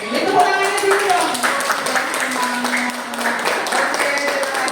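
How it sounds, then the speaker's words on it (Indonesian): Scattered clapping from a school audience after group 2's presentation, light and uneven, with voices talking over it. "Ini tepuk tangannya dulu dong."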